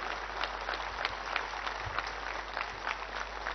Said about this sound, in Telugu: హస్తినలో ఈ చప్పట్లు వినబడాలి.